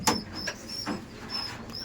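Faint pigeon coos drift through a quiet loft, soft and somewhat distant, with a couple of small knocks in the background.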